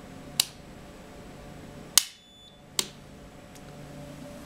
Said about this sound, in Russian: Автомат отключился